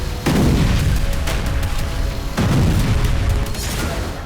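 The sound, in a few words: explosions and artillery fire from bombardment in Gaza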